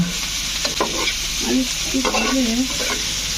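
Dried fish and eggplant sizzle and get stirred in a pan, a continuous close frying hiss with scraping stir strokes and faint background voices.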